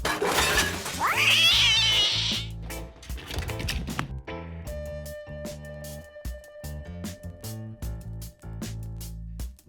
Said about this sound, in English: Told you it was a cat